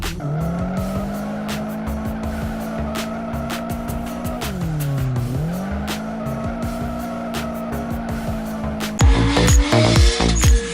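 A car engine revs hard while tires squeal continuously through a drift, the pitch dipping and recovering after a brief brake tap, before a burst of louder, harsher skidding at the end.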